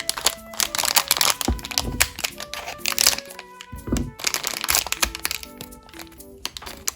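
Crinkling and crackling of a Hello Kitty collectible blind-box package being torn open and unwrapped, with repeated close, loud plastic crunches and rustles over several seconds, no talking.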